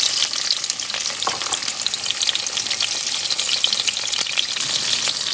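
Tomato dropped into hot coconut oil in a pot on the fire sizzles and crackles steadily, close and continuous with stirring, no talk.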